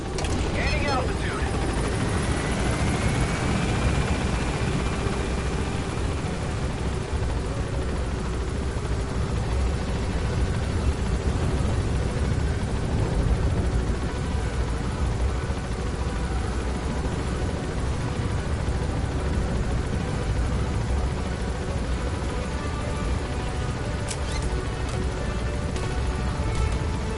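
A helicopter in the video game Metal Gear Solid V roars steadily as it climbs, a dense continuous rotor and engine wash filling the whole stretch at constant loudness.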